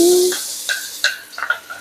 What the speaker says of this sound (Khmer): ខ្ទះក្តៅហើយគឺយើងដាក់ប្រេងល្ងចូលមានខ្ទឹម